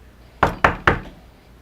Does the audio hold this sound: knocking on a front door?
yes